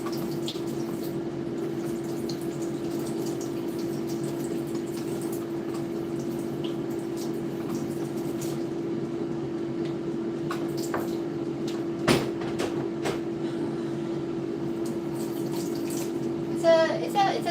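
Something is rinsed under a running kitchen tap while making cakes: a steady, moderate stream of water flows throughout, with a few clinks and knocks near the end.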